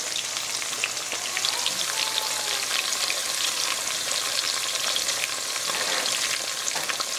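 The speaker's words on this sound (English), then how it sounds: "I'm going to let this fry for about 5 minutes until it gets lightly golden brown touch." Onions fry over medium heat for a biryani after cumin seeds have browned in the oil, making a continuous dense sizzle with a light crackle and no talking.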